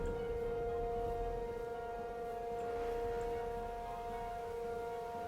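Tornado warning siren from a Minecraft weather mod, a sustained civil-defense wail holding a steady pitch with layered harmonic tones, loud and unbroken with no talking.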